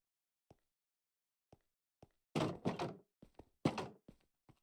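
A body slam from an exploder suplex in Minecraft wrestling: a few isolated soft thunks, then a cluster of heavier, door-like impact thuds and slams, fairly faint overall.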